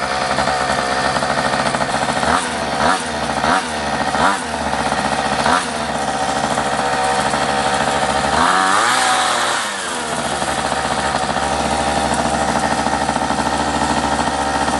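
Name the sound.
restored abandoned mini motorbike engine running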